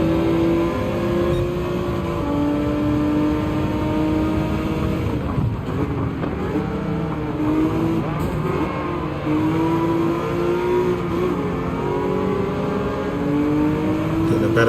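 Engines of an NSX and a Mazda RX-7 roar in a Gran Turismo 7 race, holding a loud, sustained drone with rising and falling pitch as the cars shift gears, with no voices over it.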